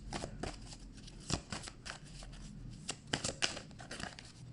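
Tarot cards being shuffled by hand, a close, steady run of crisp riffling and slapping bursts with short pauses between them, no voice over it.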